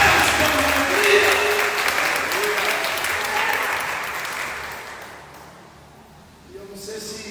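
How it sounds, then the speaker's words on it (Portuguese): A church congregation applauds during a celebration service, a dense sustained wash of clapping that slowly thins and fades toward the end, with voices and cheers mixed in. "Dá para você aplaudir ao Senhor?"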